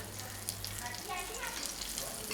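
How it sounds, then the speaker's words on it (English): Brinjal slices coated in semolina (rava) sizzle steadily in a pan over medium to low heat, making a close, continuous crackling fry. "So let it take its own time and let it fry on medium to low heat."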